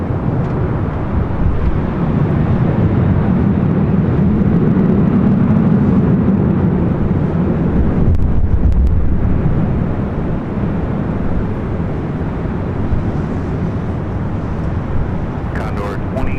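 Jet airliner taxiing at Los Angeles LAX airport toward the Tom Bradley terminal, a steady loud engine roar throughout with a brief rise partway through and some faint crackle near the end.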